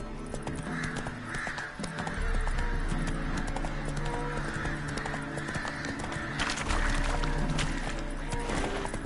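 Roach, the horse from The Witcher 3, gallops in a steady, close hoofbeat rhythm that continues throughout, with birds cawing in the background.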